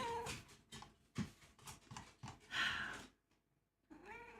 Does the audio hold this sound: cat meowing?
yes